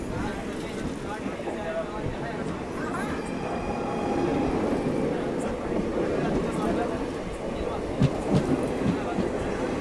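Onboard the 12721 Dakshin SF Express, a push-pull train between Hyderabad and Delhi, a steady low rumble of wheels and carriage noise runs throughout, with people talking over it.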